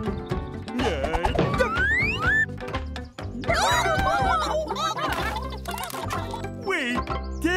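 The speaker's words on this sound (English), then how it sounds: "Oh, my sweet little chickens!" Chickens cluck and squawk in a busy, overlapping flurry close by, with excited human voices mixed in throughout.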